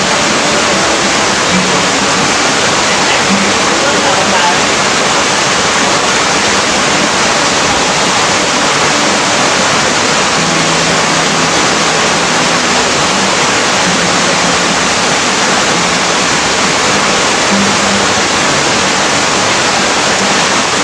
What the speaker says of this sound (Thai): ริมลำธาร